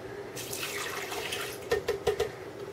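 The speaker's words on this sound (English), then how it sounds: "So first, I'm putting in my water." A close stream of water pouring into a blender, followed by a few short gurgling splashes.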